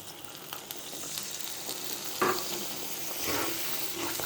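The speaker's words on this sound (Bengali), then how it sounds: "এখন আমি পানি দিয়ে দিচ্ছি" Water poured into a hot karahi of frying mustard hilsa, a steady sizzle and stir with a brief splash of hissing and a second surge near the end, close and alone.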